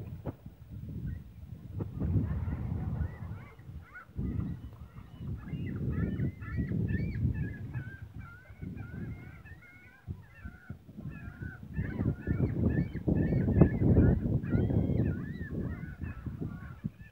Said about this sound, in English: Listen to those gulls.